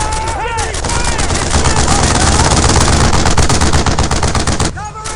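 Sustained automatic gunfire from a World War II shooter, Brothers in Arms: Earned in Blood, with loud rapid bursts rattling nearly continuously for several seconds over battlefield noise and shouted voices.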